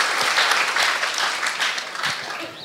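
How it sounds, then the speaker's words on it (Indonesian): Audience applause at a live gathering, loud and dense clapping close by for a few seconds, fading slightly toward the end. "terus tepuk tangan"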